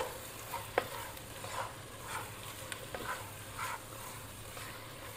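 A spoon scrapes and stirs Dindigul-style mutton biryani masala with fresh coriander and mint in a pot, giving repeated soft stirring strokes over a steady low sizzle of frying, with no talking.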